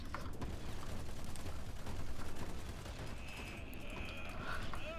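Airstrike explosions rumble and crackle in the video game Battleborn, a dense, continuous barrage of booming blasts and gunfire-like bursts mixed with game effects, with no talk over it.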